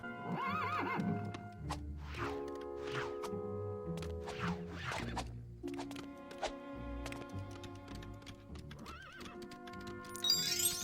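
Horses in the LEGO Indiana Jones 2 video game neigh and whinny several times over clip-clopping hooves, with game music and scattered knocks and thuds around them.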